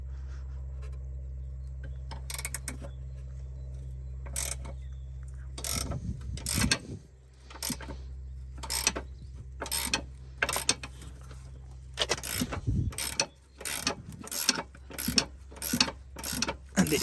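A ratchet wrench loosening an eccentric suspension bolt on a BMW E60 M5 with a V10, rapid metallic clicking bursts that grow denser toward the end, close and clear over a steady low hum, no talking.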